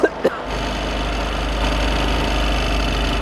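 A BMW and a Porsche engine run together at 3,000 RPM with no oil, a steady loud droning hum after a few brief knocks at the start, with a voice shouting briefly.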